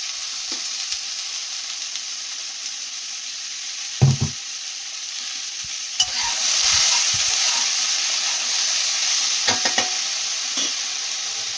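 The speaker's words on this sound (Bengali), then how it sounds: "এবার গরম জল দিয়ে দিচ্ছি, গরম জল দিয়ে এটা গুলে নেব" Hot water poured into poppy seed paste in a hot pan sets off a rising, steady steamy sizzle, with a few close knocks and scrapes as the mixture is stirred and no talking.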